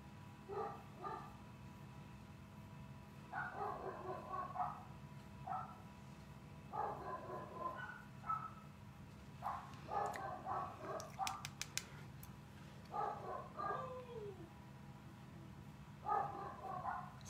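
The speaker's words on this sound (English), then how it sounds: "Sorry about you, my dogs, you guys." Pet dogs bark indoors in a series of repeated yaps and barks that come in clustered bursts, somewhat distant and faint over a steady low hum, with a few quieter whimpering notes between.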